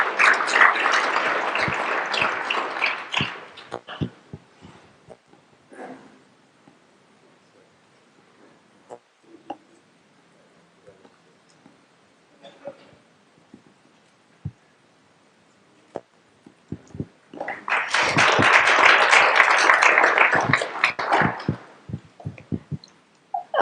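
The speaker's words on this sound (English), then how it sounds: "Let's have a big round of applause." Audience applause for challenge winners at an awards announcement, two bursts of clapping from a crowd, the first fading out and the second rising later, with scattered faint clicks in the quiet gap between.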